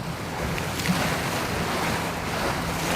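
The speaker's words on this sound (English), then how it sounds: "This is a good example of a big gust coming." A strong williwaw gust hits a sailboat on a snowy winter passage toward Alaska. Steady, loud wind roar and buffeting mix with the wash of water against the hull, with no talking.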